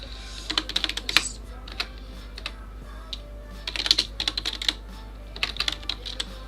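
Fingers tap on a computer keyboard in several quick bursts of close, crisp keystrokes separated by short pauses, with no one talking.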